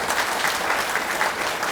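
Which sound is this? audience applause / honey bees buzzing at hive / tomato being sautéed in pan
audience applause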